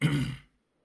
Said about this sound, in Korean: 기침이 떨어지지 않아서